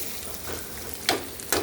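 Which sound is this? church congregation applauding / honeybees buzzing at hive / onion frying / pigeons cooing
onion frying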